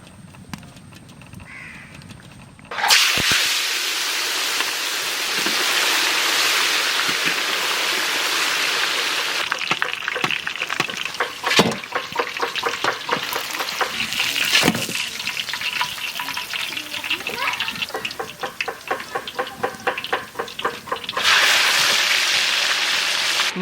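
Mustard oil sizzling and frying in a pan on a village clay stove, a loud, steady hiss beginning abruptly and continuing with crackles and splutters throughout, with crows cawing in the background.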